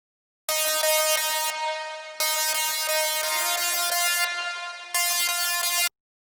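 A bright future bass lead synth built from sawtooth waves with distortion plays a few sustained, buzzy notes in separate blocks, loud and alone with short gaps between phrases.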